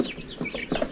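Chickens clucking and squawking in a pen, several close birds calling in short overlapping bursts at moderate loudness with no speech.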